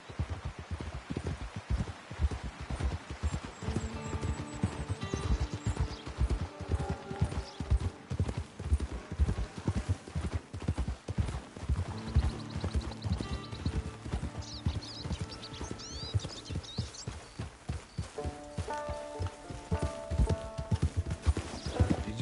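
Horse hooves clip-clop steadily on a trail in the Red Dead Online western video game, a close, even rhythm of hoofbeats with faint ambient sound and occasional snorts.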